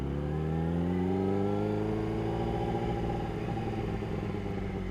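Yamaha R6 sport motorcycle engine running steadily with a warm-start cam noise, a continuous droning hum with layered harmonics and a slight pitch drift, loud and close without speech.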